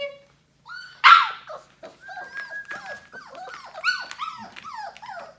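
Several puppies whimper and yip in high, thin cries, a loud squeal near the start followed by a string of soft whines.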